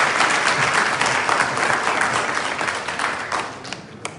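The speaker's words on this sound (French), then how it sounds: "Applaudissez pour vous-même," An audience at an official gathering applauds in a sustained burst of dense, even clapping that tapers off toward the end.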